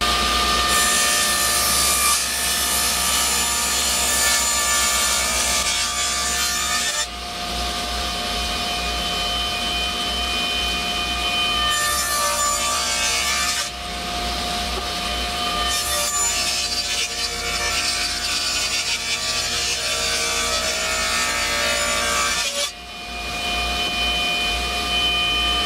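A saw cuts apart a glued wooden fly rod case in a loud, continuous, rasping drone with a steady tone, dipping briefly three times as the cut pauses and then resumes, with no talking.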